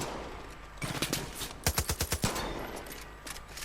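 Gunfire in Far Cry 5, a short burst of shots followed by a rapid automatic string of about eight sharp reports, fairly close over quiet background with no talk.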